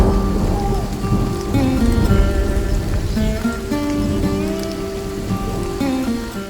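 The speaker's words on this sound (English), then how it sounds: "safe from the rain and lightning" Heavy rain pouring steadily in a Madagascar forest with thunder rumbling, a loud continuous downpour with deep low rolls running throughout and no voices.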